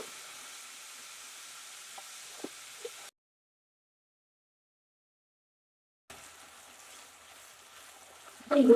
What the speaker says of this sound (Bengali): তেলের মধ্যে কিছুক্ষণ চিকেনটা ভাজবো দুই মিনিটের ভাজবো